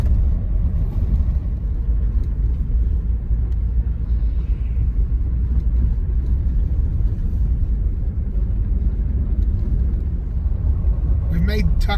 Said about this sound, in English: so we're just driving into town here.